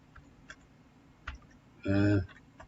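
Typing on a Hansung keyboard, a few sparse, quiet keystroke clicks scattered across a near-silent background, with a short voiced sound in the middle.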